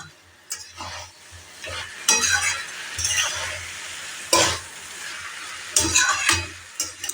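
Cabbage curry cooked with fish heads being stirred and dried out over a high flame, with repeated scraping strokes and a steady sizzle underneath, plus occasional utensil clinks, close and clear with no talking.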